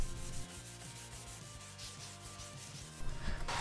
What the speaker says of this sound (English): I only sanded this handle to 240 grit using some wet and dry paper